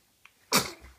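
One sharp, close sneeze, preceded by a tiny faint sound, standing alone in a quiet room.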